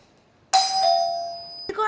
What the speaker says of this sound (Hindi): अब ये घंटी बजाएगा।